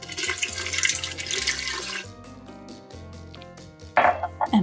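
Water gushes and splashes into a mixing bowl holding flour and yeast for a couple of seconds, then a few shorter splashes, close and clear over a faint musical background.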